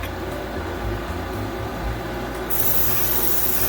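A new Bucasso trigger-action airbrush spraying paint gives a steady, close, airy hiss that swells louder and brighter partway through, with no voices.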